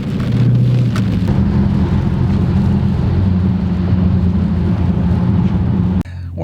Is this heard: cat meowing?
no